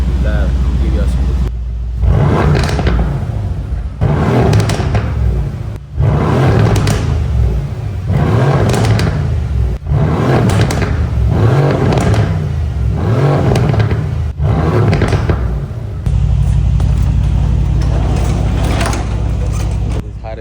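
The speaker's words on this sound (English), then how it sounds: "I'm gonna give y'all some quick revs right now." A Mercedes-AMG biturbo V8 in race mode revs repeatedly inside a garage: about ten loud, close throttle blips in a steady rhythm, each climbing and falling back, over a deep idle rumble.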